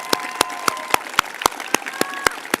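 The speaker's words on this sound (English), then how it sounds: "Join me in giving these students a round of applause." Applause for honors college students at a ceremony, heard as evenly spaced, sharp claps repeating about every quarter second, fairly near with light background murmur.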